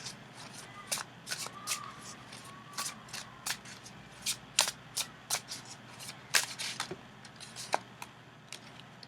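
Tarot cards are shuffled close to the microphone in a series of quick, crisp riffles and flicks, irregularly spaced and fairly quiet, with faint low background hum.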